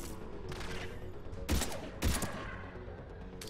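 Two sharp, loud sniper shots in the video game Mass Effect 3, about half a second apart, ringing out over a quieter game soundscape.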